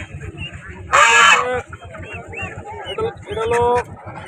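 Black Chinese ducks and geese honk loudly at a rural market in Tebaria, Natore, with two strong bursts of close honking and scattered quieter calls while people talk in between.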